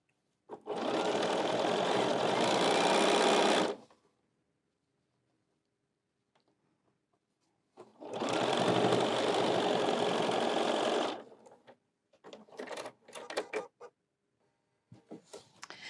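A sewing machine stitches along the edge of a folding wallet in two long, loud, steady whirring runs separated by silence, followed by a few short clipped bursts.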